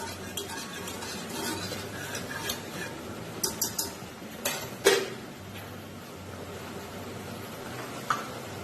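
Kashmiri yakhni chicken being stirred in a pot, with soft continuous scraping and light utensil clinks against the metal, a few sharper taps standing out, moderately close and without talk.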